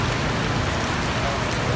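Steady, dense rain pouring down as an unbroken loud hiss, close and continuous for the whole moment, with no speech over it.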